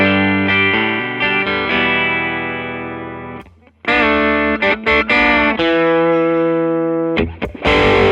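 Distorted electric guitar captured through a Neumann TLM103 condenser microphone in a home studio, sustained overdriven chords followed by a short gap and then choppy riffing with bent notes, loud and close.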